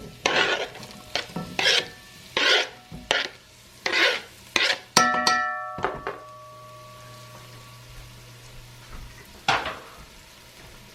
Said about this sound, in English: I'm going to go ahead first and get my onion in